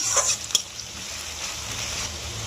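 Onion frying in a pan for a cabbage dish with fish head, a soft steady sizzle with a couple of brief clinks and stirring scrapes near the start, close and moderately quiet.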